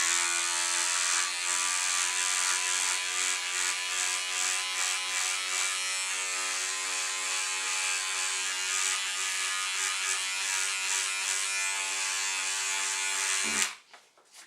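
Electric hair trimmer shaving a moustache: a loud, steady close-up buzz that runs unbroken for about thirteen seconds, then cuts off abruptly with a brief handling clatter; no one speaks.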